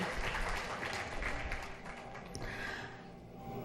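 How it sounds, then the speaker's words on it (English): Graduates at a college commencement ceremony applaud their parents in a faint, distant round of clapping that tapers off toward the end. "the graduates to please give your parents a big round of applause"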